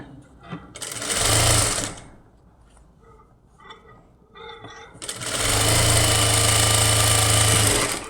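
A sewing machine stitches the lining of a blouse in two loud bursts, a short run and then a longer sustained whir, with quiet handling and faint shuffling in the pause between them.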